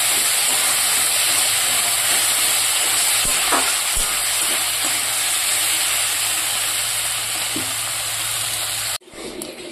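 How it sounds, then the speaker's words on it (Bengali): Small river fish frying in a pan for a Bengali home meal, a steady, loud, dense sizzle running without pause before cutting off abruptly just before the end. "তো মাছ ভাজাটা হয়ে গেছে"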